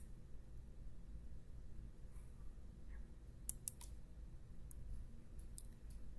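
A few light computer mouse clicks, faint and close, scattered over a steady low background hum during office software work, with no voices.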